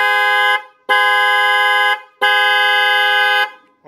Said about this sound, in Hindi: एक मेरी प्रोडक्ट है जो कि सबको कंपनी के स्नेल हॉर्न्स है